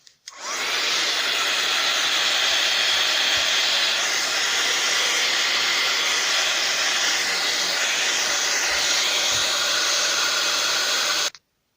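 A hair dryer blows steadily over a freshly stamped, wet art journal page, a loud continuous whoosh that starts abruptly, holds at an even level for about eleven seconds, then cuts off.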